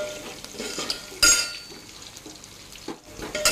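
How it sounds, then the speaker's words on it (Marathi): Onion and garlic sautéing in a pan with a spoon stirring and scraping, soft sizzle underneath and a few sharp metallic clinks of utensil on cookware, close and moderately loud. "कांदा छान लालसर परतला। आता यामध्ये मी थोडं लसूण घालत आहे।"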